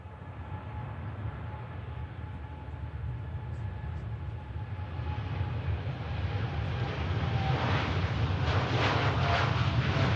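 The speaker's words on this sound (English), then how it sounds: "2E Dreamliner on the roll, 787-9, heading off to Montego Bay" A Boeing 787-9 Dreamliner rolls for takeoff at Manchester Airport, bound for Montego Bay: a steady, distant engine roar that swells and grows louder and broader over the last few seconds, with no voices.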